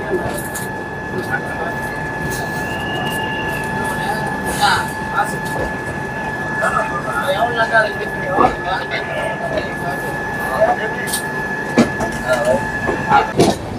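Coromandel Express rolling along the rails out of Chennai, a steady rumbling clatter with wheel clicks and faint squeals throughout, someone talking over it.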